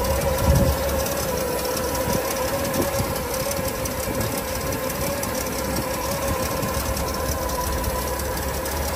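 A 1981 Ford Coachman Caper XL 2000 motorhome engine idling steadily under an open hood, a continuous close rumble with a slightly rough, low idle.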